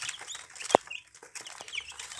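Farm chicks give soft, scattered high peeps, joined by one sharp knock; the sound is quiet and close.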